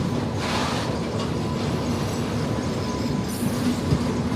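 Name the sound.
Intercity Express train being washed at Rajkot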